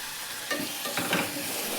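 Salt, turmeric and coriander powder fry in a pan for mint pudina rice under a steady close sizzle, with a couple of brief stirring scrapes midway.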